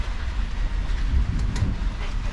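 A Toyota Innova engine idles just after startup, a steady close low rumble with a faint irregular flutter, while a fault in the fourth injector leaves it running rough and smoky.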